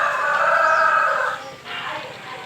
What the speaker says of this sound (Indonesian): Nah, ini ayam semua ini bunyi.